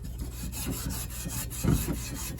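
A cast iron pan is scrubbed of rust and leftover residue in steady, rhythmic rubbing strokes, close and fairly loud against a constant background hiss.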